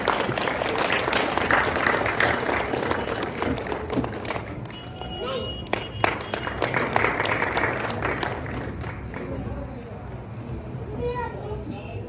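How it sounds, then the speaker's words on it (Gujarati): Audience applause at a government retirement and birthday ceremony, a roomful of clapping that swells and thins over several seconds, with a voice speaking over it through parts. "તમારી તાળીઓ મળશે."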